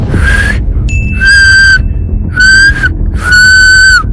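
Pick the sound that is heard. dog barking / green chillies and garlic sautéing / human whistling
human whistling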